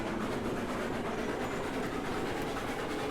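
Train rolling along the track in the railway game Railroads Online, a steady dense rumble with rattling wheel noise, loud and continuous throughout with no talk over it.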